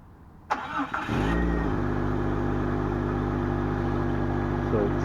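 A 1999 Jeep XJ starts by remote start, with a short cranking burst followed by the engine catching. It then settles into a steady, close idle that runs on evenly to the end.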